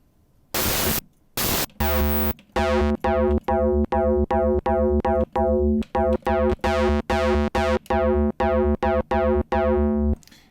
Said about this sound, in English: And we get a sort of square wave sound.